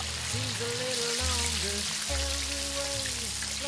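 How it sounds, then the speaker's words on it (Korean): Battered chicken deep-fries in hot oil, a dense, steady crackle and sizzle that fills the whole clip, with low background hum beneath it. "그리고 튀김가루를 묻힌 뒤 바삭하게 튀겨줍니다."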